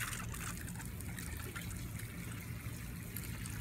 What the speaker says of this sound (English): Make sure you get a really good watering.